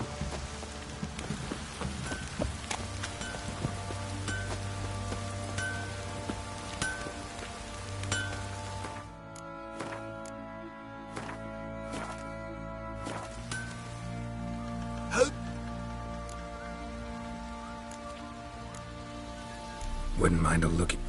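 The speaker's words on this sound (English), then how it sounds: "This downpour's a bastard." Heavy video-game rain pours steadily as a broad, constant hiss, with a few sharper drops and thuds and a louder burst near the end, while a voice talks over it.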